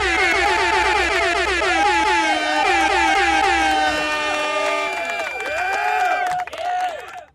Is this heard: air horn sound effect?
yes